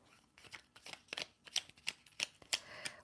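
Tarot cards are shuffled by hand in a series of quick, crisp riffling bursts close up, with short gaps between them and no talking.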